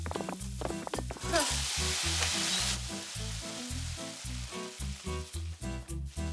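Caramel sizzles hard in a very hot pan in a cartoon kitchen, a loud hissing burst midway over steady rhythmic background music.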